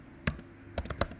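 Keys tap on a computer keyboard, one isolated click followed by a quick cluster of several close, crisp keystrokes in a quiet room.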